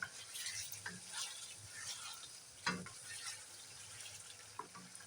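Chicken meat is stirred and sautéed in a pan with spices for chicken tehari, giving faint, steady sizzling with soft scraping stirs and a sharper clack partway through, fairly distant and low in level.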